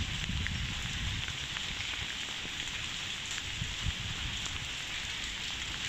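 Rain falls steadily on a rainy Friday outside a mosque, a continuous soft patter and hiss of drops on surfaces, moderately close and unbroken, with no voices.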